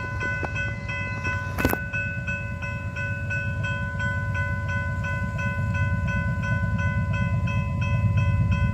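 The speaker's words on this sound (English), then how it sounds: "He's motoring, Jack. He's absolutely moving" A doodlebug railcar in Australia rumbles past at speed in the rain with steady rolling noise, a brief sharp horn or whistle blast early on, then a sustained roar.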